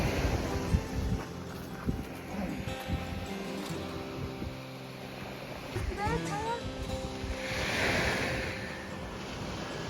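Wind and ocean surf wash steadily along the shore of Miscou Island, New Brunswick, a broad rushing noise with a swell near the end, while people talk over it.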